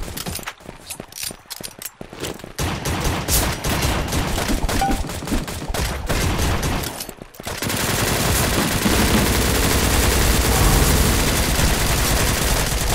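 Dense volleys of gunfire from blind shooting in the online battle game Surviv.io, rapid automatic bursts running almost continuously and growing louder and more sustained in the second half, with no talk.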